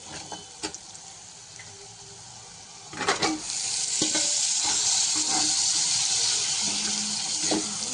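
Chicken hits hot oil in a pan with ginger; after a few faint clicks, a sudden loud sizzle erupts about three seconds in and holds steady, with light stirring.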